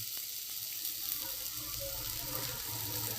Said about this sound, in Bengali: সবজি কষানোর সময় মনে রাখবেন, সবজিতে যেন কোনো রস না থাকে।